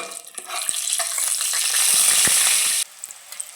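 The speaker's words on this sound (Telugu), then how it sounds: "కోడిగుడ్లు అలా ఫ్రై అవుతున్నాయి కదా" Eggs frying in oil in a pot with turmeric, a loud, close, continuous sizzle that swells and then stops suddenly, with a few light clicks of stirring around it.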